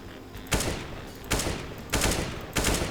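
Rifle gunfire in the video game CS:GO while shift walking: four evenly spaced loud shots, each with a sharp attack and a long ringing decay, fairly close, no talking.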